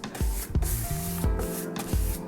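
An aerosol can spraying clear coat onto a bathroom cabinet in several short, close hissing bursts, each separated by a brief pause.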